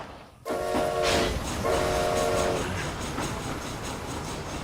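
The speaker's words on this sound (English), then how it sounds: "This train headed for Mexico." Train in Red Dead Redemption Undead Nightmare: after a brief quiet start, two long horn blasts sound over a steady rumbling roll and rhythmic clatter of the cars, with the rolling noise continuing after the horn stops.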